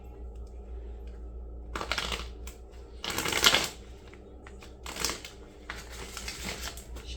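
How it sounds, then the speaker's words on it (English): A tarot card deck being shuffled in several quick riffling bursts, close and crisp, separated by short quiet pauses over a low steady hum. "Shuffle the deck."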